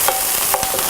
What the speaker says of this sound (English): Nice sizzle down on everybody.